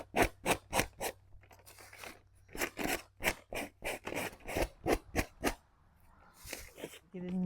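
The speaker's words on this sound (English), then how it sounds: "Take some sandpaper, and I'm just going to push it down on the sides to cut that edge off." Sandpaper is pushed hard along the edges of a piece to cut the edge off, making a quick rhythmic series of rough scraping strokes, about a dozen in all, close and crisp.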